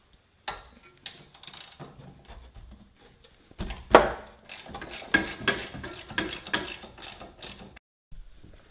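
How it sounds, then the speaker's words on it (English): A ratchet wrench with a 14 mm socket and a small extension on a 3/8 drive clicks through repeated bursts while removing the rear caliper bracket bolts on a 2016+ ND Miata, close and alone. "Now remove the bolts on the back of your caliper bracket."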